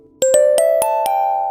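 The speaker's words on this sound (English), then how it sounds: "Music box." A music box plucks a jingle, five bright metallic notes in quick succession, each ringing on with a sustained shimmer, clear and close with no voices.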